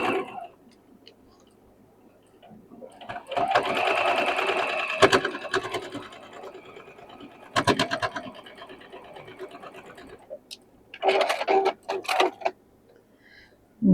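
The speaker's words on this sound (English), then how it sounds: "let's sew our pieces together here." Sewing machine stitching quilt block pieces together in short bursts, a fast, close mechanical whir with rapid ticking, stopping and starting several times with quiet gaps and a few clicks between seams.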